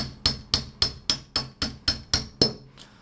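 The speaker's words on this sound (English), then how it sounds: "I'm going to use a 4mm long hex key so I can drive that pin straight down using some light taps from the hammer" A hammer taps a 4mm hex key to drive a pin straight down on a Colt/Umarex M4 rifle, nine evenly spaced sharp metallic clinks about a quarter second apart, close and alone, followed by one softer final tap.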